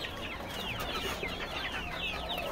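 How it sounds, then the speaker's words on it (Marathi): Poultry hens and chicks feeding on azolla cluck and chirp steadily, a busy overlapping chorus of short calls at moderate distance over a dense hiss of background noise. "कोंबड्या किती आनंदाने खात आहेत"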